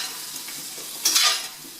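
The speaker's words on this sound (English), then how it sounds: "toss the onions." Onions tossed in olive oil in a skillet for a chicken and vegetable stir fry: a steady close sizzle with one brief louder rush as the pieces are flipped, no voices.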